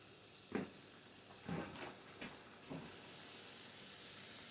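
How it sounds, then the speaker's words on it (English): Turkey chops frying in a cast iron pot on medium-high heat, a constant faint hiss and sizzle with several soft bursts as pieces settle in the oil, then a brighter sizzle swelling toward the end; no talking. "And with that cast iron pot, it barely steams. It always fries."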